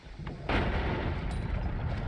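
Bomb blasts from an exploding wand in the video game Noita, a deep rumbling boom that hits hard and rolls on as a loud, continuous roar with no talking.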